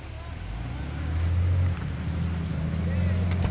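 An off-road vehicle engine revs and strains while crawling over rough terrain in Alberta's Big Horn backcountry, a loud, close, rising drone that holds steady, with voices talking over it.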